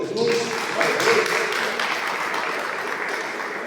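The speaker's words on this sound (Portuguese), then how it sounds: "Glória a Deus, aplaude o Senhor Jesus." A congregation at a church service applauds in a full, continuous burst of clapping, louder at the start, with voices mixed in underneath.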